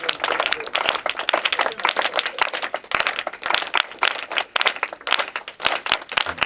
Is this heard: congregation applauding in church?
yes